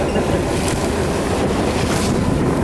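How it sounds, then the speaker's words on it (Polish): A boat engine drones steadily in the distance at sea off Sopot, half buried in constant wind and water noise with a loud, unbroken roar throughout. "Czy słyszysz w oddali, jak maszyna chodzi?"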